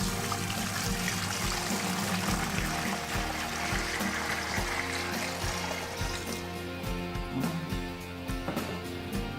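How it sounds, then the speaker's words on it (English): Cold water pours steadily into a home-brew fermenter, a continuous splashing stream that stays loud and close throughout, with the pitch shifting slightly as the vessel fills. "Fill your fermenter with 5 litres of cold water"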